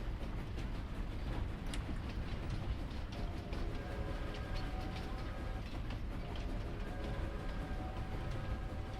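Steam train running in the Farm Sim video game: a steady, loud rumble of rolling wagons with rhythmic clickety-clack and faint metallic whine, continuous throughout with no voices.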